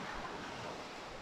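Ocean waves wash against the cliffs below a Grenada resort at sunset, a soft continuous rush of surf mixed with wind noise on the microphone, with no talking.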